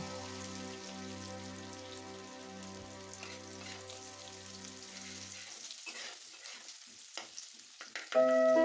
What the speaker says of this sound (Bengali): এবার পেঁয়াজটাকে আমি ভালো করে নেড়ে ভেজে নেব ব্রাউন ব্রাউন করে